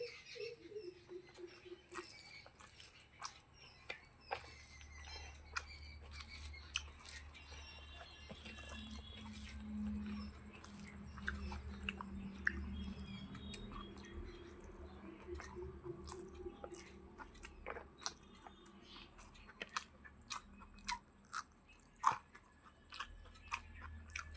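Vegetables being chewed during an eating show, faint close crunching and wet bites repeating irregularly through a quiet room, with a low murmur in the background.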